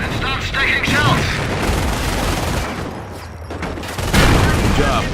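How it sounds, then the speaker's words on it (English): Panzer tank cannon firing in rapid succession in Company of Heroes, heavy booming blasts amid continuous battlefield clatter and gunfire, with a louder burst near the end and speech over the din. "The Panzer is able to fire more quickly."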